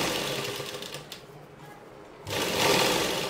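A sewing machine runs a rough stitch along folded-in dress fabric, a steady close mechanical whir that pauses briefly midway and then resumes louder, with no voices.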